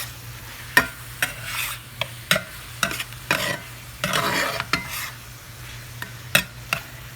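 A spoon stirring seasoned food with pepper and salt in a pan, with scraping strokes repeating at an irregular rhythm over a soft steady sizzle, close and fairly quiet.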